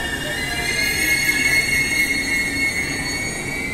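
A three-car commuter train on Auckland's Eastern Line pulls in with loud, sustained high-pitched wheel squeal over steady rumble, close by with no talk.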